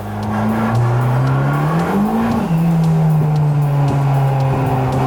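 A Mercedes 190E drift car on a race track roars with a loud, sustained engine note that climbs and dips in pitch, while its tires squeal and skid through the slide.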